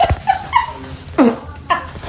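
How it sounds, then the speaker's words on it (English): Fart sound effect in a prank, a short low burst standing out among scattered voice fragments and exclamations, fairly close and loud. "Was that a fart?"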